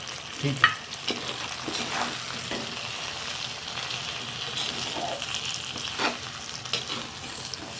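Naarthangaai citron pickle is stirred in hot oil with mustard powder and chilli powder, a steady close sizzle with soft scraping strokes and a few sharper knocks, and no voices.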